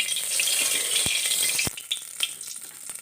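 Oil heats in a pan before tempering for rasam, a steady soft sizzle and hiss with a couple of faint clicks, then quieter crackling.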